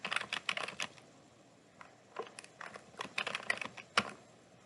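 Rapid bursts of computer keyboard typing, near and fairly quiet, come in quick clusters of keystrokes separated by short pauses, with no talking.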